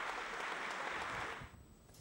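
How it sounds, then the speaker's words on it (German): Applause for Chancellor Merkel from the CDU party base at a party gathering; a short burst of faint, even crowd clapping that cuts off abruptly partway through. "Am Ende erntete die Kanzlerin doch noch einmal Applaus"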